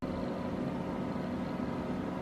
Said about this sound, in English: I do apologise, the fan has kicked in.